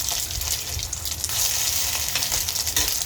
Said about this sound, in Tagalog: lutuhin lang natin sa mainit na kawali